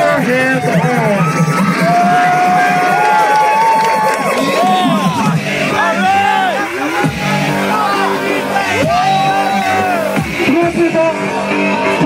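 A crowd at a retro beach party cheers and whoops loudly and close, mixed with shouting voices and dense chatter over thumping party noise.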